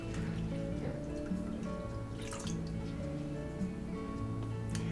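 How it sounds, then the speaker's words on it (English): Water is poured into a children's water table, with soft steady trickling and scattered drips over a continuous background of gentle tonal music. "So I'm going to add a little bit more water into my table."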